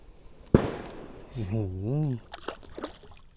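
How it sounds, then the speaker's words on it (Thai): A single sharp explosion bang cracks out early, followed by a voice speaking and ambient outdoor noise. "เสียงระเบิดเมื่อกี้"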